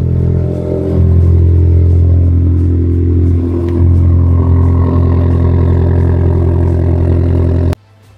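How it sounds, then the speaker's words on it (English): A Volkswagen Lupo GTi engine idles loud and rough with a deep, steady drone and clattery exhaust, missing its silencer or catalytic converter, running continuously close by before cutting off near the end. "Bit loud. I think there's a silencer or the cat's missing"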